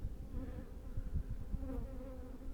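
Honeybees buzz steadily around an open hive at a lakeside apiary, a close, continuous drone with insects passing near the ear, no talking.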